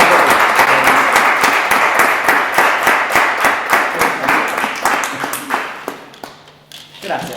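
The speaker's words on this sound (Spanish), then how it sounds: "un fuerte aplauso para este histórico turismo carretera" Audience applause at a tribute for a veteran Turismo Carretera racing driver: dense, steady clapping close by, with hand claps distinct in the mix and low voices murmuring underneath, thinning out toward the end.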